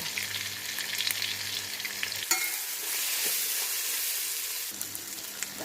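Grated coconut and tomato sizzle in a hot pan while a spoon stirs them, scraping in bursts over a constant close frying hiss. No one speaks.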